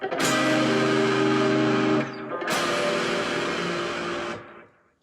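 Two heavily distorted electric guitar chords ring out one after another, each sustaining thick and buzzing before the second fades away.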